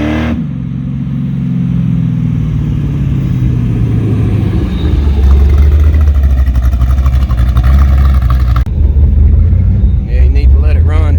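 A Ford Mustang with a 363 stroker engine, heard from inside on a ride along, a loud steady rumbling drone that rises and shifts as the car accelerates, with a rattling buzz near the end and people talking over it.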